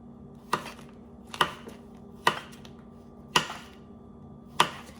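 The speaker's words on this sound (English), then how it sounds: "I'm gonna cut them in little pieces" A knife chops Vienna sausage into small pieces on a cutting board, giving five sharp, evenly spaced cuts about one second apart, close and clear over a quiet kitchen background.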